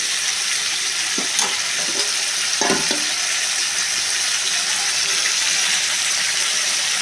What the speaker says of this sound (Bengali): আমি এটা মশলা দিয়ে নিয়ে খুব সুন্দর করে নিয়ে কষাবো